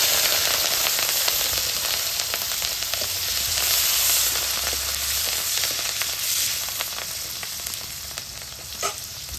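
Green chilies sizzling in hot oil while fish curry is cooked, a loud continuous frying hiss with scattered sharp crackles and a low rumble underneath.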